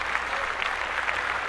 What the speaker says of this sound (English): round of applause to all these classes